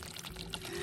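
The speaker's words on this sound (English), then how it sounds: "I'll use more hot water to melt the ice." Hot water poured onto a frozen ice balloon in a kids' science experiment, a brief steady splashing pour with hissing liquid sound, close and continuous.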